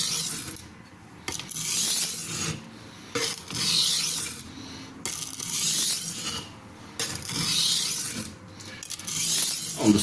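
A knife blade is honed on a fine, hard sharpening stone oiled with food-safe mineral oil, forming a micro bevel: repeated rhythmic scraping strokes, each a raspy swish with short pauses between, close and clear.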